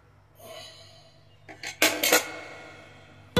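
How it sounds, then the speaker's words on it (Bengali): Metal pressure cooker lid set and closed over boiled tomatoes, heard as a few close clanks and scrapes of metal on metal, then a final sharp knock. "এবার প্রেসারে ঢাকনাটা ঢাকিয়ে প্রেসারে 7-8টা সিটির জন্য অপেক্ষা করব।"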